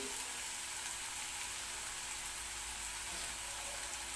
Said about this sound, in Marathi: हे बघा कांदा भाजतो आपला